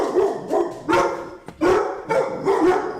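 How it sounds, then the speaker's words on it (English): A dog barks loudly and close by, several deep bow-wow barks in an irregular rhythm with short gaps, with no talking over them. "Dog! Quiet!"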